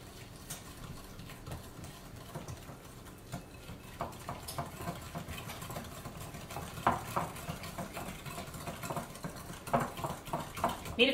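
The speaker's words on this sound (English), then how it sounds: "Okay, so it says whisk combined. I have my little baby whisk." A small whisk beating eggs, sugar, oil and sour cream in a bowl, quick rhythmic scraping and clinking against the bowl that gets louder and faster toward the end, with some talking quietly beneath.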